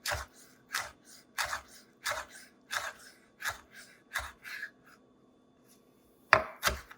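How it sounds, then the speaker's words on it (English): Knife pushing down through fresh basil on a cutting board, slicing it into ribbons: about eleven crisp, evenly spaced chops, a brief pause, then one sharper, louder cut near the end. "we're going to start at the end and we're just going to push down. So you're going to get little ribbons of basil."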